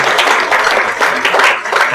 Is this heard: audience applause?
yes